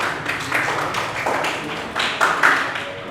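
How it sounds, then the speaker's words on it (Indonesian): Classroom applause for a student group after a song performance, scattered clapping from students that comes in uneven bursts and swells, moderately loud and close, with no speech. "Tepuk tangan buat kelompok."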